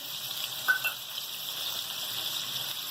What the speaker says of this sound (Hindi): हम अपना ये अदरक लहसुन डाल देंगे।